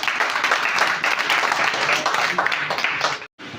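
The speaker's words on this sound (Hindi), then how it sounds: "शेषनाग के लिए जोरदार ताली।" A crowd at a talk breaks into loud, dense applause that holds steady for a few seconds before stopping suddenly, with a brief return of noise right after.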